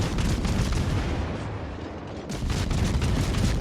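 Warship main guns in World of Warships pound away in a heavy, continuous barrage of deep booming shots and rumbling blasts, loud and close, briefly easing before surging again.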